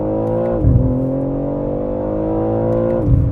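A 2025 BMW M3 Touring with xDrive accelerates hard on a wet, slippery road, its engine droning loud and close with a steady rising tone broken by two shift dips.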